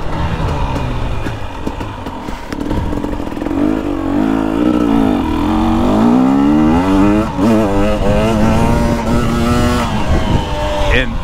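A 2021 KTM 250XC TPI two-stroke dirt bike ridden along wooded trails, its engine revving and rising in pitch as it pulls through the throttle, loud and close, with a rider talking over it throughout.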